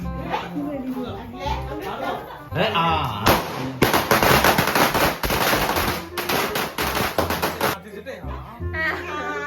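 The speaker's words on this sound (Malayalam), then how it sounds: "പടക്കം, മാലപ്പടക്കം, ഓലപ്പടക്കം, ഗുണ്ട എല്ലാം പൊട്ടിക്കും" Rapid strings of Vishu firecrackers, including garland crackers, palm-leaf crackers and bombs, crackle and pop in dense bursts, loud and close, with voices chattering underneath.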